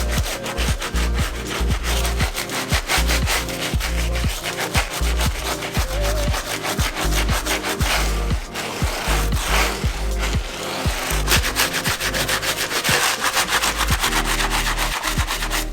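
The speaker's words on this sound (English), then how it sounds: "So I'm going to go right back in with the medium bristle brush." A medium bristle brush scrubs the midsoles of a worn, dirty pair of Yeezy sneakers, making steady, rapid back-and-forth bristle strokes that rasp continuously and up close throughout.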